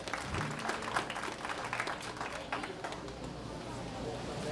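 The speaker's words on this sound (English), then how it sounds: "Let's give both these individuals a round of applause." An audience at a county junior livestock show claps in a broad round of applause, scattered voices and crowd murmur mixing in before the clapping thins out toward the end.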